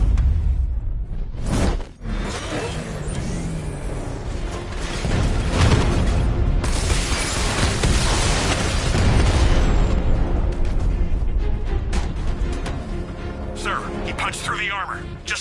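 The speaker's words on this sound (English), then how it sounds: "Your 60mm cannon will penetrate these heavily armored units, but it'll take a few direct hits to destroy them" Heavy booms and blasts from 60mm cannon shots hitting an armored tank in a Batman video game, dense and loud with whooshes and mechanical clatter, heard under a radio voice.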